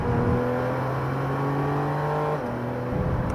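A 2014 Nissan GT-R Track Pack with all-wheel drive accelerates hard out of a corner, its engine note rising steadily before a brief shift and renewed pull, loud and close with no talking.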